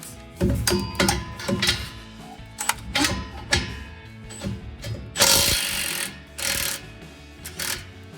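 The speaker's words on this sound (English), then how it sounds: "The next bolt we're going to take out is going to be the bolt that holds this clamp together right next to this isolator in front of the muffler." A socket wrench on a 15 mm bolt holding an exhaust clamp in front of the muffler on a 2011-2020 Ford F-150, giving a series of close, rapid ratcheting clicks in bursts, with brief pauses between runs.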